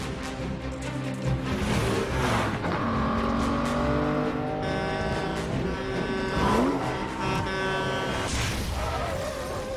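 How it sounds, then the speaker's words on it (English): Racing car engines roar and rev through a film car chase from Quantum of Solace, loud and continuous, with rising pitch sweeps as vehicles accelerate and pass, plus a brief tire squeal, layered with dramatic music. "now we get our car chase"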